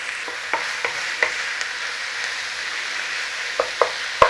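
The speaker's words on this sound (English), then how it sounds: "let's get our beef in there. Start cooking that down." Ground beef fries in a pan under a continuous close sizzle, with a few sharp scraping and clacking strokes from stirring scattered through, with no talking.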